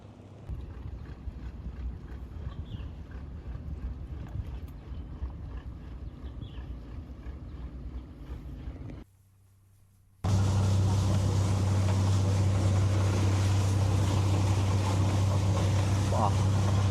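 A river taxi motorboat travelling between Pagatan and Banjarmasin, with a steady broad engine and water roar, then a brief near-silent gap before a louder, constant engine drone with strong low hum and wind buffeting.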